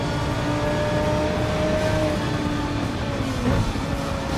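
A race car engine roars steadily at high revs in the World Touring Car racing video game on the High Speed Ring circuit, a loud continuous drone with slight pitch shifts and no pauses.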